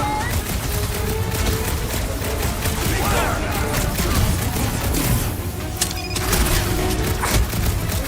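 Dense gunfire crackles and thumps through a combat scene in the Guardians of the Galaxy video game, a continuous loud barrage mixed with blasts and mechanical clatter, with voices talking over parts of it.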